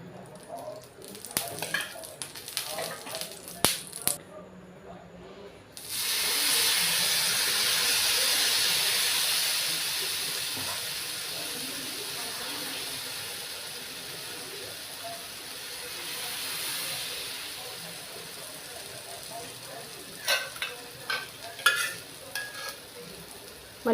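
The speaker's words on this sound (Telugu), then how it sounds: "ఒకవైపు బ్రౌన్ కలర్ వచ్చినంత వరకు వేయించుకుంటే సరిపోతుంది." Dosa batter frying in oil on a hot pan, a steady loud sizzle that swells after a few seconds and stays continuous, with light scraping and clatter at the start and end.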